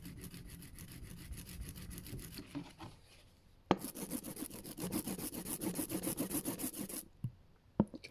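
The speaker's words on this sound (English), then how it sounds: "I'm going to listen for that sticky noise." An ink roller works sticky printing ink with a quick run of rhythmic, rasping, tacky strokes, pauses briefly, then rolls again in a louder, denser burst before stopping.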